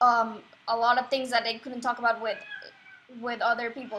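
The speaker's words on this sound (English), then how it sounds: "Sorry, that is my cat." A pet cat meows briefly and close by, its drawn-out call rising through and between a person's steady talking.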